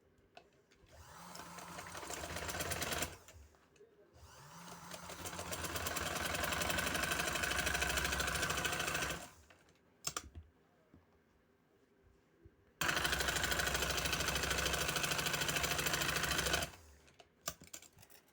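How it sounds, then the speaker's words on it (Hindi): A sewing machine stitches a garment sleeve in three bursts of rapid mechanical whirring, each ramping up and cutting off, separated by short quiet gaps and heard close up. "ये बाजू की सिलाई फिर मैं दिखाती हूँ क्या डिज़ाइन है"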